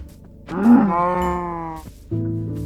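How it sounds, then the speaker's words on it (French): Minecraft cows mooing: a long, loud, drawn-out moo, then after a brief pause a second moo starts and continues to the end, heard alone and up close. "Voilà, plus de vaches, c'est bien."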